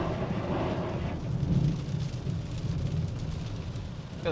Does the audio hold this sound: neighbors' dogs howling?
no